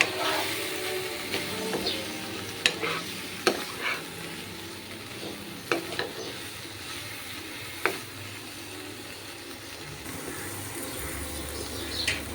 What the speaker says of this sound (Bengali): এই পটলগুলো দিয়ে আমি আবারও ভালো করে নাড়িয়ে নিব।